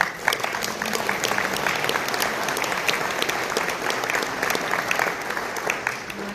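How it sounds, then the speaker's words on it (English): A panel audience breaks into applause, many hands clapping in a dense, steady burst that stays fairly loud for about six seconds before easing slightly, with no talk over it. "I'd love to give a round of applause for"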